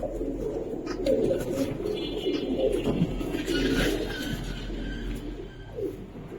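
Oman highflyer pigeons cooing in a loft, soft low murmuring coos that overlap in a steady layer under a constant low hum, with faint chirps and no talking.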